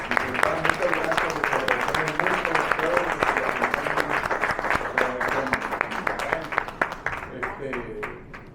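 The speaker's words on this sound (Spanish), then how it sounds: "estamos terminando esta reunión con un fuerte aplauso." A crowd applauds steadily, dense clapping sustained throughout before thinning out near the end.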